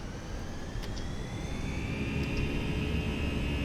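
Airbus A319 jet engines spooling up on the runway for takeoff, a steady loud roar with a rising high whine that climbs gradually, heard from inside the aircraft.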